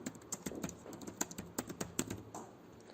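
Keys clacking on a computer keyboard as instructions are typed, a quiet, uneven run of close, crisp taps with short pauses between bursts.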